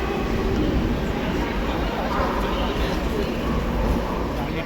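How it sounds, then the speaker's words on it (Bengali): The 18047 Amaravathi Express pulls out of Bhubaneswar station, a dense, steady rumble of rolling wagons heard from on board, continuous and moderately loud throughout. "18047 ভুবনেশ্বর স্টেশন ছাড়লো 2 ঘন্টা 7 মিনিট দেরিতে।"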